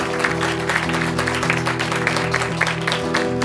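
Small audience clapping in a radio studio during a live in-studio music session, a brief burst of applause over a low hum.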